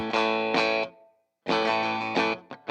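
An Ibanez 2640 Artist doubleneck electric guitar played on its 6-string neck with both pickups on, distorted chords ringing out, a short pause, then more sustained chords and a quick final stab.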